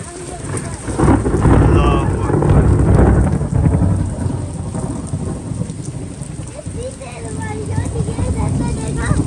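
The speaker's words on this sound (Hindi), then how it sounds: "बारिश जो है ना बहुत तेज़ हो गई है" Heavy rain pours down in a dense, steady roar with a low rumble beneath, and a voice is briefly heard under the downpour.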